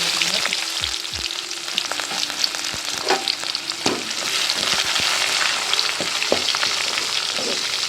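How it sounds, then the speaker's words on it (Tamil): Onion, garlic and curry leaves fry steadily in hot oil in a pan for a Tamil drumstick masala curry, a continuous close sizzle with occasional stirring clinks and scrapes, no talking. "வெங்காயம் நல்லா வதங்கிட்டு"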